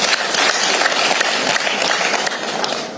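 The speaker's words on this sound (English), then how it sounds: "Let's give them a clap." A crowd at a Kenyan Azimio coalition leaders' meeting claps steadily and loudly for three seconds, a dense, even patter of many hands with no break and no clear talk.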